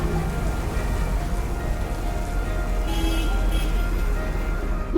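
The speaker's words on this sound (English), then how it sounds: "There's nothing worse than pushing a car in the rain" Steady rain pours down while bikers push a stalled car along a road, a dense continuous hiss with faint vehicle rumble underneath and no speech.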